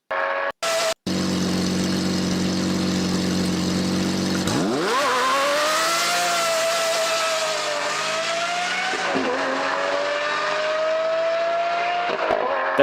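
A Lamborghini Murcielago with a large, open exhaust gives a couple of short bursts, then revs up into a loud, sustained engine roar with rising and falling pitch and brief dips as the throttle lifts.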